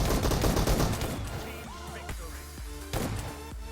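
Rapid bursts of shotgun fire from PUBG Mobile, loud and close, with dense overlapping blasts early on, then sharper separated shots with echoing tails near the end.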